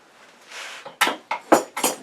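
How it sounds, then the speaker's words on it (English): Several quick, crisp snips close by, three or four cuts in an uneven rhythm after a soft rustle. "Now I'm going to take those scissors again."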